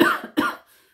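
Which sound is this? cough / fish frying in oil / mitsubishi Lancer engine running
cough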